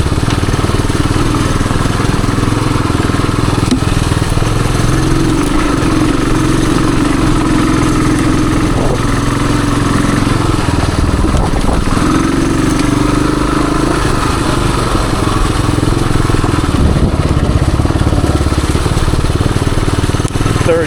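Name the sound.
1978 Suzuki DR370 motorcycle idling on trail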